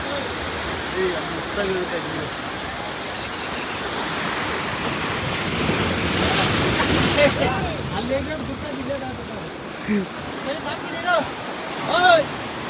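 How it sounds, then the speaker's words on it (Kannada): Ocean waves break and wash over a rocky beach in Pondicherry, a steady broad roar with a louder surge midway, mixed with wind buffeting and people talking nearby. "ಬೀಚ್ ಆಗಲ್ಲ, ರಾಕ್ ಬೀಚ್ ಇದು."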